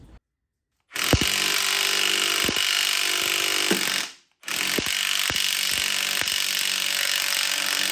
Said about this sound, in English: So we're just taking the crank pulley off now.